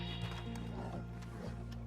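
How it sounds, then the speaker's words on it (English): A horse in the Red Dead Redemption video game snorting and shifting close by, with soft hoof movement over a steady background of game ambience and music. "Then we're just going to feed this horse until it bonds."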